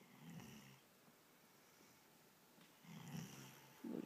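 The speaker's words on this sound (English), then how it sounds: "He's snoring" A dog asleep on a couch snores in soft, low rumbling breaths, two drawn-out snores about three seconds apart with a brief snort at the end, close and quiet with no talking.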